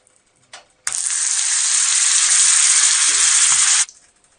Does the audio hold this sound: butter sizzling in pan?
yes